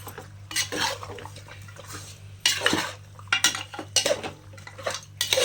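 A spoon scrapes and clinks against a metal cooking pot as ginger garlic paste is stirred for village-style mutton curry, irregular knocks and scraping strokes over a low steady hum.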